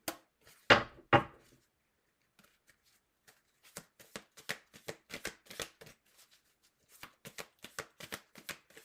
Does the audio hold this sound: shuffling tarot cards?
yes